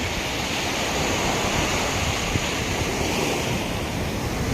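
Steady roar of ocean surf washing onto Na Jomtien beach, loud and continuous with wind buffeting the microphone.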